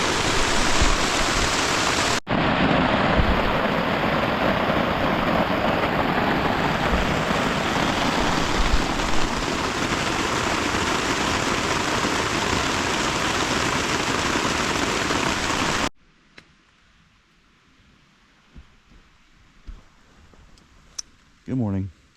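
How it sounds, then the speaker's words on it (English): A heavy rainstorm pours down on a campsite during an overnight backpacking trip in central Pennsylvania. A dense, loud roaring hiss fills about sixteen seconds, then cuts off abruptly to near quiet with a few faint sounds. "a storm is back. Full-fledged, big-time storm. It's coming down hardcore."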